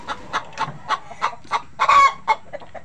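Rhode Island Red chickens cluck close by in a coop, a steady run of short rhythmic clucks about every third of a second with one louder squawk near the middle.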